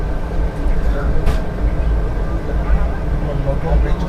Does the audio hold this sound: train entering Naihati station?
yes